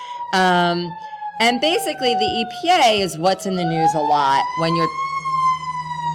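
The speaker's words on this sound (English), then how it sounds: "So sorry for the sirens." Emergency vehicle sirens wailing outside a school, loud rising and falling tones that run continuously beneath a person talking close by.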